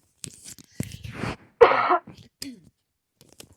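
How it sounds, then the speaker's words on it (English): A single sharp cough bursts out amid quiet breathing and a few soft mouth sounds, close to the listener. "I had to cough real quick."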